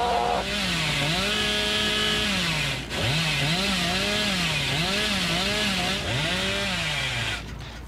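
Loud, continuous chainsaw engine in Dead by Daylight-style horror game play, revving and dipping in repeated rising and falling whines over nearly eight seconds, close and alone with no talk.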